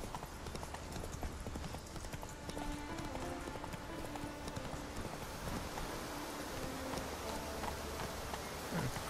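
Rapid, steady hoofbeats of a galloping horse in The Witcher 3: Wild Hunt, rhythmic clip-clop continuing throughout over a dense wash of background sound.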